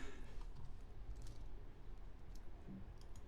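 A computer keyboard clicks with a short burst of quiet, close keystrokes, faint and light against low room noise.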